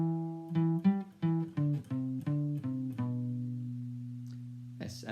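Electric guitar picking the second part of a riff, a series of clear sustained single notes in a steady rhythm, ending on a long held low note that slowly fades.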